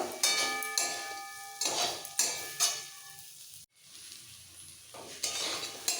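Okra and potato coated in fried spices are stir-fried dry in a pan over low to medium gas, with repeated scraping stirs and a soft sizzle, broken by a brief pause midway.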